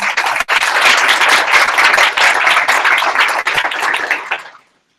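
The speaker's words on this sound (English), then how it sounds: "We both deserve a round of applause for taking the time out of the busy schedule to be here with us this evening." Audience at an evening candidate forum in Suffolk applauds steadily and loudly for about four and a half seconds, dense clapping that fades out at the end.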